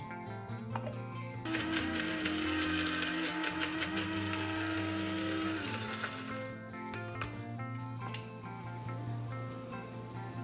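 A high-powered blender grinds dried mesquite pods into meal, a loud, steady mechanical whir with dense rattling that runs for about ten seconds without a pause. No one speaks over it.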